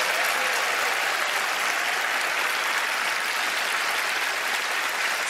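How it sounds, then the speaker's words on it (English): Studio audience at the Penn & Teller: Fool Us magic show breaks into steady, loud applause, a dense continuous wash of clapping with no talk, sustained evenly throughout. "Please give them a round of applause."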